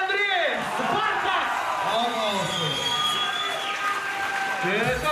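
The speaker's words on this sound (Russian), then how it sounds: "Громкими аплодисментами." Dense crowd noise at a fight club tournament, with applause and cheering running throughout while a loud announcer calls out over it.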